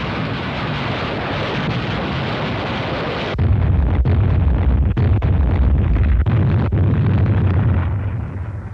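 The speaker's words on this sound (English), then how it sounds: "The assault troops were preceded by a rocket barrage directed against the area behind the" Rocket barrage explosions ahead of a beach landing in a 1951 Pacific war film, a dense roaring rumble of blasts that deepens into heavy, booming low thunder with repeated sharp impacts, loud and continuous.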